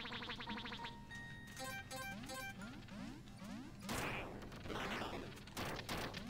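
Shotgun blasts go off in a video game over busy electronic music and tonal game effects, with a dense burst of gunfire in the middle of the stretch and more rough impacts after it.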